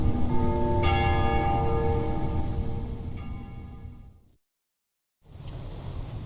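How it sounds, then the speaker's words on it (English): Church bells ring at dusk over a liberated capital city in the Ace Combat Zero video game, several overlapping resonant tolls ringing out and slowly fading, then a short silence before ambient sound resumes. "They ring the bells here at dusk to honor the liberation of the capital."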